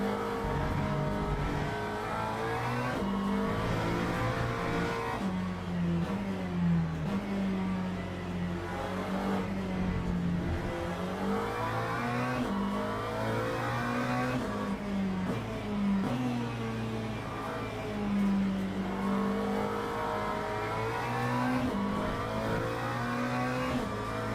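A race car in the Le Mans Ultimate sim-racing game, running the default setup, roars continuously for the whole lap segment, its engine pitch repeatedly climbing through the gears and dropping on downshifts, loud and close with no talking.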